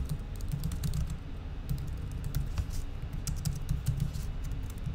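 Steady, close clicking of a computer keyboard as a code comment is typed, keystrokes running in a continuous rhythm over a low background hum with no talking.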